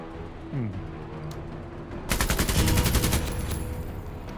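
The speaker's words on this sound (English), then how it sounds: "We are under heavy fire" Heavy gunfire in the tactics game MENACE: after a quieter stretch with some talk, a dense, loud burst of rapid automatic shots erupts and keeps pounding for about two seconds.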